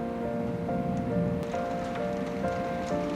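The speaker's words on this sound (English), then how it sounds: "It's raining so much now." Heavy rain pours steadily outside during a thunderstorm, a dense continuous hiss with scattered drops and faint tonal hum underneath, no voices.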